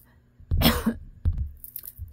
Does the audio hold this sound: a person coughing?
yes